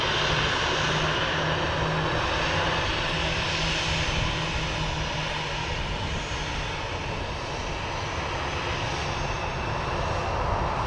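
A Ryanair airliner vacates the runway at Manchester Airport, its jet engines giving a continuous loud broadband roar that holds steady throughout at fairly close range.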